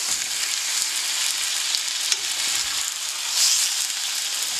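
Chicken breast sizzles in a hot cast iron skillet, a continuous close frying hiss with occasional pops and a brief stir or flip.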